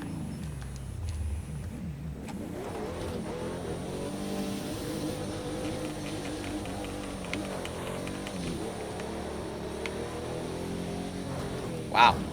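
A Pagani supercar in a racing video game drives on dirt, its engine droning steadily with shifting pitch throughout, and a brief sharp sound near the end.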